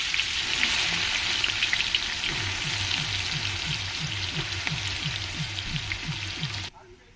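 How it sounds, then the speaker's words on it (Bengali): Onions dropped into hot oil left from frying potatoes for chicken biryani in a village kitchen, crackling in a loud, dense, continuous sizzle with a steady rhythmic low knocking underneath, cutting off abruptly at the end. "এবারে আলু ভাজা তেলের মধ্যে পেঁয়াজগুলো দিয়ে দেবো"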